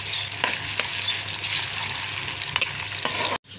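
Onions frying and browning in a pan for a tinda (round gourd) curry, a steady broadband sizzle with a few sharp stirring clicks, close and continuous, cutting off abruptly near the end.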